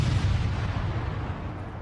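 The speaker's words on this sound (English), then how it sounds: "That was a firework." A firework explodes outdoors, heard as a loud, deep rumbling boom that fades slowly over a couple of seconds.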